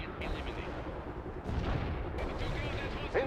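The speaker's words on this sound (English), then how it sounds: "Incoming artillery." Incoming artillery in the video game World in Conflict: dense, rumbling bursts of shelling and gunfire merge into a continuous roar, with a louder impact near the end.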